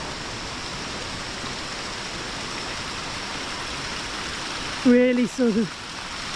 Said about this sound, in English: hearing water everywhere now, which is brilliant